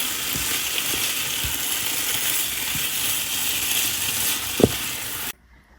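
Chicken with ketchup sautéing in a pan for a dry fry gives off a steady, dense sizzle with a few soft scrapes and one sharp clack, then cuts off abruptly near the end.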